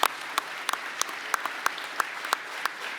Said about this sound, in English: I'm taking that applause for myself